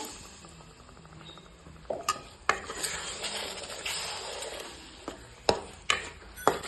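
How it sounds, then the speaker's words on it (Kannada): Spice paste simmering in oil for cauliflower gobi fry, a low bubbling sizzle broken by several sharp clinks of a spoon or utensil against the pan, close and moderately quiet. "ಎಣ್ಣೆಗೆ ಕುದಿಸ್ಕೊಂಡು ಮತ್ತೆ ಹೂಕೋಸು ಹಾಕಿ ಫ್ರೈ ಮಾಡ್ತೀನಿ ನೋಡ್ರಿ"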